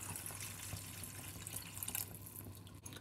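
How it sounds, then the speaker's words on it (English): A cup of water is poured into a curry of tomatoes, onions and curry leaves cooking in a pot, a soft close trickle and splash under a steady background hiss, with no talking. "then add 1 cup of water"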